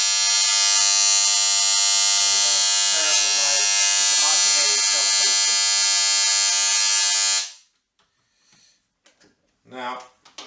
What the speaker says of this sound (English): powering their clippers without making the horrific noise